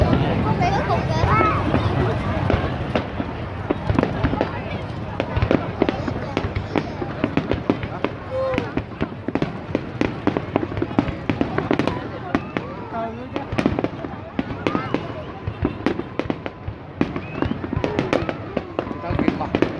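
Fireworks at the 2015 Da Lat festival opening, a dense, continuous run of rapid crackling bursts and booms at moderate distance, with a crowd and people talking throughout.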